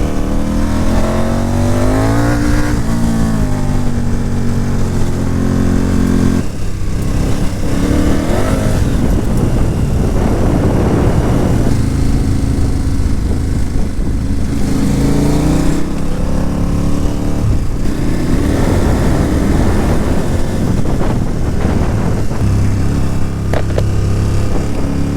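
A motorcycle rides on gravel, its engine droning and revving steadily at close range throughout, with shifting pitch as throttle rises and falls.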